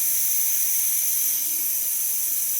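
Pressure cooker letting off steam after its whistles during pulao cooking, a close, continuous loud hiss that holds steady throughout.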